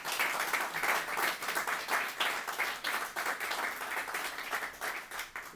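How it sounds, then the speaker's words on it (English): Round of applause for Deborah at a Junior Achievement Southwest Virginia Business Hall of Fame ceremony, a modest crowd clapping in a rapid, uneven patter that stays steady for several seconds, with no voices on top. "how about one more round of applause for Deborah"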